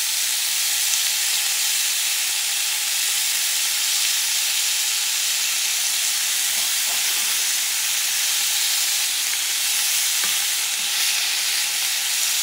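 Thin-cut onion steak frying in a hot pan, a loud, dense and continuous sizzle with steady hiss throughout and a few faint scrapes of the meat being moved.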